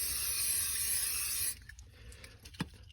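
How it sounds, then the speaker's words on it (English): A steady hissing Scotchgard fabric protector aerosol spray runs for about a second and a half on a Honda CR-V floor, then stops, followed by a few faint rustles and a soft tap. "grab your Scotch-Guard"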